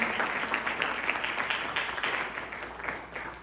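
Church congregation at a conference giving rhythmic applause, a steady room-filling patter of many hands that gradually fades over a few seconds.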